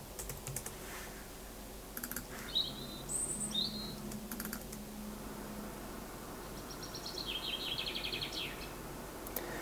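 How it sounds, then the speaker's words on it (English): Short bird chirps from a sound-effect library pop up in a few brief high tweeting bursts over steady computer keyboard typing and mouse clicks, all quiet and close. "I want like a bird sound effect."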